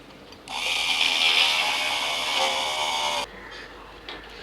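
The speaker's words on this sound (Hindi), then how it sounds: "थोड़ा राउंड शेप में रगड़ेंगे।" A metal shaft for a homemade drill is rubbed round against a spinning abrasive, a steady high grinding whine lasting under three seconds, close and fairly loud, then cut off.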